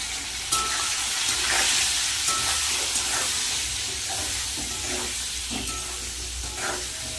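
Steady, dense sizzling of pointed gourd frying in hot oil in a pan, continuous throughout with occasional soft stirring scrapes.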